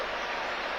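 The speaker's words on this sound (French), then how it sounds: "qui quitte donc ce stade de Martyr sous les applaudissements" Stadium crowd at the Stade des Martyrs applauding as Cameroon captain Samuel Eto'o leaves the pitch during a DR Congo vs Cameroon 2012 Africa Cup of Nations qualifier, a brief steady wash of distant ovation.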